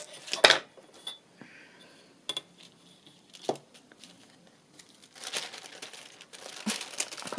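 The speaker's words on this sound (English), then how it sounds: "I might just tear a piece off so that it's not quite so unwieldy to work with" Craft material, folded over, torn by hand: a sharp crinkling rip near the start, then softer intermittent rustles and crinkles, with a denser patch of handling noise toward the end.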